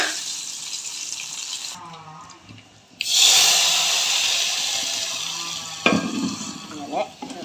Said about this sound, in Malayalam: എണ്ണ ചൂടായി എനിക്ക് കടുക് ഇട്ട് കൊടുത്തിട്ടുണ്ട്.